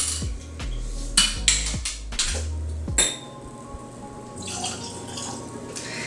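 Whiskey being poured into a glass for a temperature taste comparison: a few sharp close glass clinks and knocks, followed by a soft, steady trickle of liquid filling the glass, with no talking.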